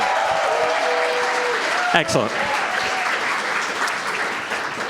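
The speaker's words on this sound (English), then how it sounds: "big round of applause for Ebony and Halo and all the team behind it" Audience applause at a Nerd Nite science talk evening, a steady broadband clapping wash that holds for the whole stretch and slowly tapers, with a voice speaking briefly over it near the middle.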